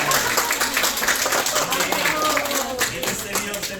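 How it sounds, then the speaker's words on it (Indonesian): A congregation at a retreat Mass applauds for Romo Vincent, a continuous patter of clapping mixed with cheers and talking voices that runs throughout. "tepuk tangan untuk Romo Vincent"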